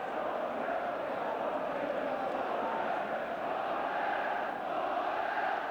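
A huge stadium crowd of over 57,000 at a Manchester United football match sends up a steady, distant roar, a dense wash of voices with no breaks.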